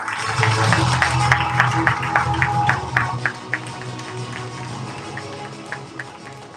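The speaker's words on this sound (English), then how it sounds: "I think they need 3 times loud applause, right?" An awards ceremony audience at a workplace grand awards event in Gurgaon claps in a steady, fairly loud burst of applause that thins out into scattered claps toward the end.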